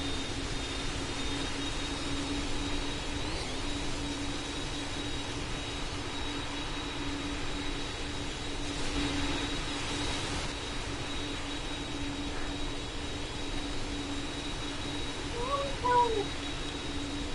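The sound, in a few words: aircraft taxiing to the runway in a Roblox video game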